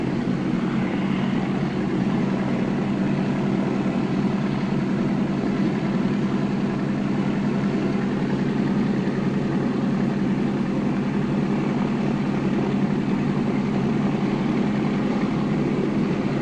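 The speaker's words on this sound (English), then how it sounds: "Now, the both engines have started" Both port and starboard engines of a twin-engine aircraft run together just after start-up, a steady, even droning hum that holds at a constant level throughout with no talking.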